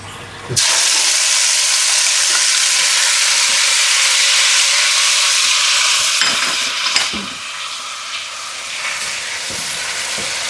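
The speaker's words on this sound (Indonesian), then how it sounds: "Tumis sampai wangi" Ground chili and ginger with tomato, lemongrass, lime leaves and sliced shallots hit hot oil in a pan with a sudden loud sizzle, then fry with a steady hiss and occasional stirring clatter, easing slightly toward the end.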